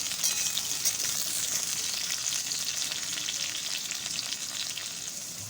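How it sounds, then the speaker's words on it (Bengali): Pointed gourd frying in hot oil, a dense, steady crackling sizzle that stays loud and close throughout with no talking. "এবার আমি পটলগুলো ভেজে নেব সুন্দর করে ভেজে নেব"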